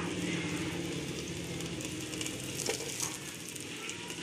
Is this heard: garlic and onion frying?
yes